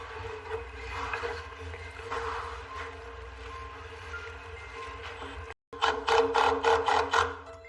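A power driver sets screws into the wooden backer blocks for crown molding during a house renovation. A steady background hum comes first, then a rapid series of loud, close, buzzing driver bursts.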